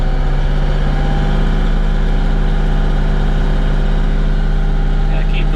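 A Bobcat tractor engine runs loud and steady at raised revs near 2,000 RPM, a constant low droning hum with an even mechanical pulse throughout.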